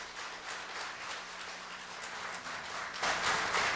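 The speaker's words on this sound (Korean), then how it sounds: "우리 큰 박수로 환영의 인사를 대신하겠습니다" Church congregation applauds to welcome the pastor at a mothers' prayer meeting, a dense clapping wash held steady and swelling louder near the end.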